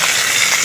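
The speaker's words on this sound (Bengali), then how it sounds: "গরম হয়ে গেছে, এখন আমি মাছগুলো দিয়ে দেব।" Tangra fish frying in hot oil in a pan, a loud, continuous sizzle close up and unbroken for the whole moment.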